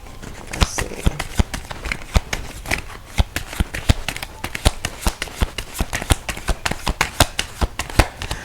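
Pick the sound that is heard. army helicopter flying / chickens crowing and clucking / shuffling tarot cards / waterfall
shuffling tarot cards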